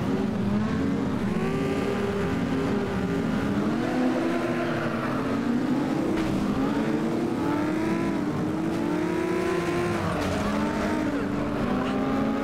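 Race car engines in the FlatOut racing game roar and rev continuously, pitch rising and falling with gear changes and throttle, loud and constant across the whole stretch.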